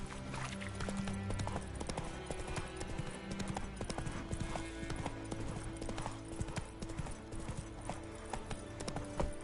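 Roach, the horse in The Witcher 3 video game, gallops in a continuous quick rhythm of hoofbeats over game music, with a voice briefly speaking.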